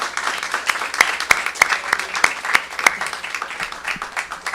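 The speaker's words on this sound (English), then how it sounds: "a round of applause for Professor Midalia Gonzalez for her organization" Clapping for an organizer at a spelling bee, with several sharp individual claps standing out over a thinner spread of applause in a hall, moderately loud and uneven.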